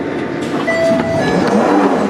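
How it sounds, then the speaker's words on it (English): The traction motors of a London Underground Jubilee line train whine steadily and loudly from on board as it runs, with shifting tonal pitches over a rumbling, rattling carriage. "Who likes the motors of these trains? Because I like them."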